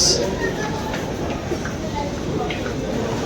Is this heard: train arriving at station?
yes